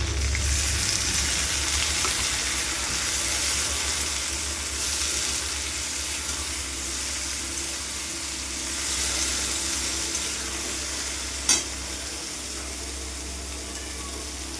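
Okra and potatoes frying in a pan with poppy seed paste give off a continuous hissing sizzle, steady and fairly loud throughout, with a single sharp clink near the end.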